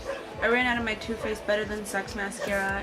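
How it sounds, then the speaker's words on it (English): A small dog yaps and barks in short bursts close by, underneath someone talking continuously. "so sorry about my dog barking."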